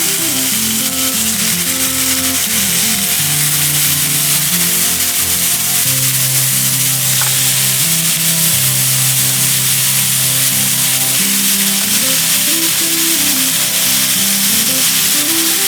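Continuous loud sizzling and hissing of cut chicken pieces frying in a wok, steady throughout with a faint hum beneath.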